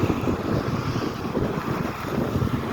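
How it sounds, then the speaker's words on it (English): Gusty wind blows steadily outdoors on a wet, rainy day, a dense continuous rush roaring up close against the microphone with no voices. "I don't know if you can tell, the wind's picking up."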